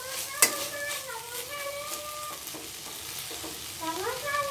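Eggplant and mango curry cooks in a pan with a gentle bubbling sizzle, a sharp clink of a utensil early on and faint scattered scraping stirs over a low steady simmer.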